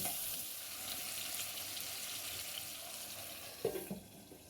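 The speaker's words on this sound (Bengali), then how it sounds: "মিডিয়ামের চেয়েও কম আছে চিকেনগুলো ভেজে নিতে হবে 7 মিনিট।" Chicken pieces for tandoori chicken fry over low heat in a pan, a steady soft sizzle that goes on throughout, with a couple of faint knocks near the end.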